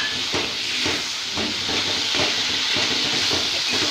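Ginger paste, cumin and tomato masala sizzling in a pan while being stirred for a fish curry, giving a steady, close hiss with soft scraping clatters throughout.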